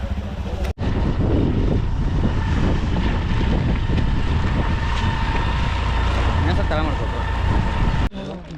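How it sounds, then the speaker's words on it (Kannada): A motorbike engine runs steadily and loudly up close after a brief dropout near the start, with heavy wind buffeting over the microphone during a ride in the misty hills of Chikkamagaluru. "ಸ್ಟಾರ್ಟ್ ಆಗಿದೆ ಬೈಕ್ ಸ್ಟಾರ್ಟ್ ಮಾಡಿಕೊಂಡು ಹೋಗ್ತೀವಿ ಇವಾಗ"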